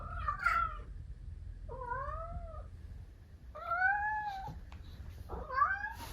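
A Bengal cat meows repeatedly, four drawn-out, chatty calls with pauses between them, close and clear over a low background rumble.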